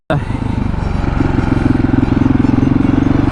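A KTM 701 Supermoto single-cylinder engine revs hard in first gear, a loud, close, steady pulsing drone that builds slightly in intensity throughout.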